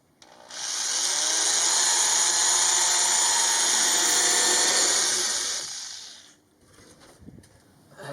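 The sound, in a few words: power drill drilling a hole in ceiling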